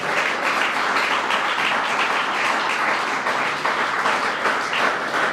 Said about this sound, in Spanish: Si usted entendió, denle aplauso al Señor.